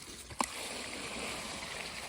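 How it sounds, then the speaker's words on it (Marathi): Water rushes steadily after a valve tap is opened, a sharp click followed by a continuous hissing, gushing flow. "कसं पाण्याचा आवाज येतो"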